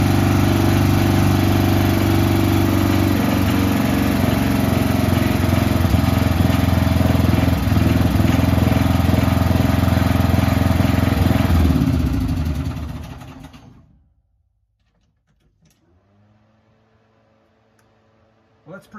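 The engine of an M4A3E2 Sherman Jumbo scale model tank runs loud and close with a steady buzzing drone, then cuts off abruptly into near silence.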